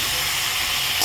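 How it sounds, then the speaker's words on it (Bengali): Mango pieces hit hot oil, a loud burst of hissing sizzle that holds steady for a moment and then flares briefly. "এবার এই তেলের মধ্যে আমগুলো ছেড়ে দিলাম।"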